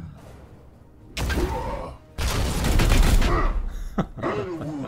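Gunfire in Warhammer 40k: Chaos Gate - Daemonhunters comes as two loud volleys of shots and impacts separated by a short gap, followed by a sharp thud and softer game effects.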